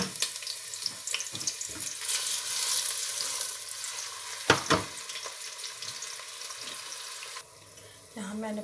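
Chopped onions hit hot oil and fry for browning, a steady soft sizzle with a few sharp clatters of stirring and utensil knocks, fairly quiet, then settling into a lower hiss near the end.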